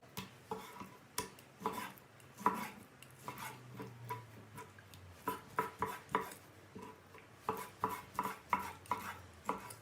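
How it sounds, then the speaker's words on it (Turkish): A knife chops raw chicken into cubes on a board in a home kitchen, quiet and close, with irregular bursts of sharp taps separated by short pauses. "Şimdi sıra geldi tavuğum doğramaya."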